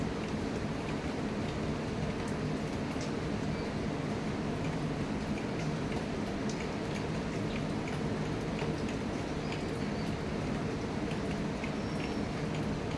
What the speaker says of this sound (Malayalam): അപ്പം ഇങ്ങോട്ട് നല്ല അടിപൊളി മഴ